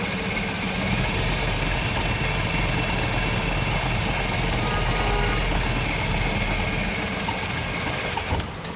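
A sewing machine stitches a trouser-hem lining, running nonstop at a steady, loud, fast mechanical whir and rattle for the whole span, close by and without voices.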